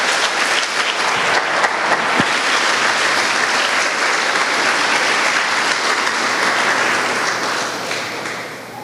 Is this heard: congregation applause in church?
yes